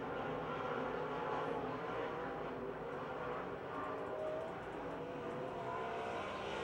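Race cars roar continuously around the Pennsylvania Motor Speedway oval near Pittsburgh, a dense, steady engine drone from several cars in late-race laps with no voices over it.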